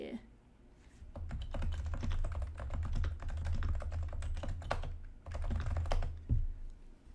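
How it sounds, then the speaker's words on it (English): Fast, steady typing on a Realforce R2 silenced TKL keyboard, soft muted keystrokes clattering in quick bursts with brief pauses, close to the microphone. "this is my silenced keyboard. It's a Real Force R255G silenced TKL"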